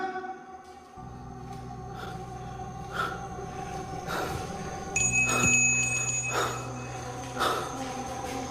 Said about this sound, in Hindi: घंटी की आवाज तो आ रही थी